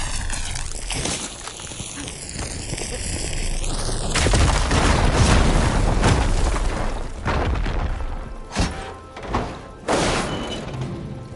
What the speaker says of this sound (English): Should be able to blow up that fire room.